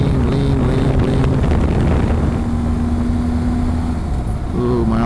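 A motorcycle engine on a country road drones steadily in third gear while leaning through a turn, with wind rush and a shifting hum that stays loud throughout.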